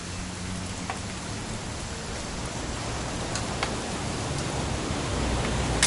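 Video game rain: steady, dense hiss of rain falling continuously, with faint scattered drop ticks and a slight swell toward the end.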